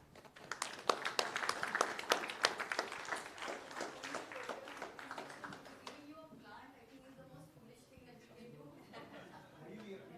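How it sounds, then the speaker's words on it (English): A crowd at a business and climate conference claps steadily for several seconds, then the applause fades into murmuring chatter and background talk. "Let's have a big round of applause"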